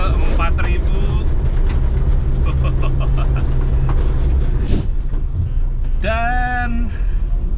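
A car engine running in fourth gear at around 4000 RPM, a loud continuous drone with road rumble and rattles, while a person talks over it and brief squeaky tones cut in.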